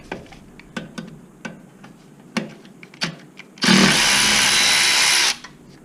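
On the front strut of a 2007-2011 Honda Accord, a ratchet clicks in short, irregular bursts while working loose 10 mm nuts, followed by a loud, steady power tool whir lasting under two seconds, close up.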